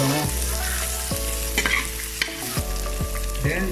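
Onion fries in a pan for pinapaitan, a dish of cow's internal organs, a dense close sizzle broken by a series of stirring scrapes and taps, with no talking.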